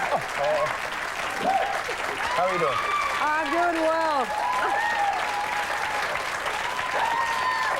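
A studio audience on a 1997 TV talk show applauds steadily throughout, with a host and guest exchanging greetings over the clapping.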